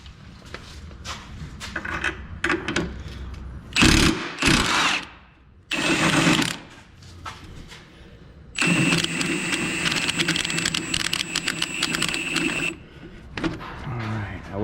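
A lower ball joint bolt on a Chrysler PT Cruiser is worked loose with a deep 19mm socket, in loud bursts of mechanical whirring and rattling separated by quieter scraping and clanks, the longest burst running several seconds.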